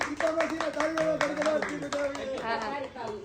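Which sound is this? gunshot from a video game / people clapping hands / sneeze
people clapping hands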